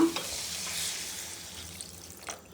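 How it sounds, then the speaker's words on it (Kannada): Steady sizzling of food frying in oil for bisi bele bath, with faint scraping of stirring now and then; no voices. "ಇವಾಗ ಎಣ್ಣೆಲೆ ಸ್ವಲ್ಪ ಫ್ರೈ ಮಾಡ್ಕೊಂಡಿದ್ದೀನಿ"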